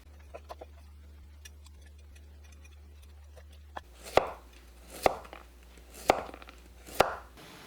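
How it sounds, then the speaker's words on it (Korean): Washed broccoli is cut into bite-size pieces with a knife on a board, a few light taps and then four firm evenly spaced chops, close and clear against a quiet kitchen with a low steady hum early on. "씻은 브로콜리는 한 입 크기로 썰어줍니다."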